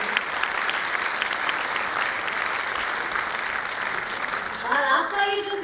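An audience applauds a child's performance with dense, sustained clapping at full volume throughout, and a voice begins speaking near the end as the applause continues.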